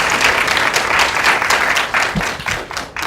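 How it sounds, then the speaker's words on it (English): Dense applause from an audience at a 2017 community college communications studies student showcase, cheering the faculty; steady, loud clapping throughout with slight dips near the end. "let's give the faculty a big round of applause"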